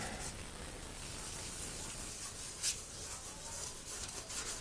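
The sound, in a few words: wet sanding Krylon Fusion paint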